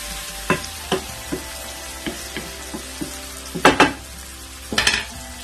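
Chicken with black pepper and spices for bhindi chicken sizzling in a pan over a low flame, with a few scattered stirs and scrapes and two louder bursts of clatter near the end.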